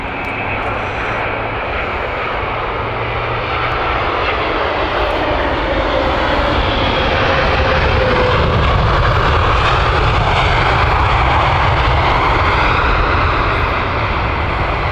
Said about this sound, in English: Seattle flight next, British Airways. With a 787-9.